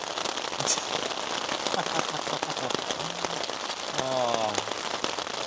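Rain patters steadily on a shelter made of packing material during a storm, a dense crackling wash heard from inside, while someone talks and exclaims over it.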